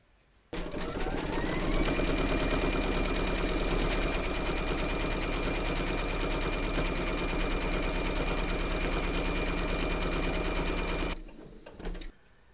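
An embroidery sewing machine satin stitching a panel border: a loud, fast, even needle chatter starts suddenly and runs unbroken for about ten seconds, then stops, followed by a few brief mechanical clicks.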